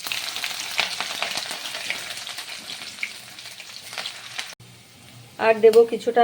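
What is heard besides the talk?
dried chillies, bay leaf, cumin and panch phoron frying in oil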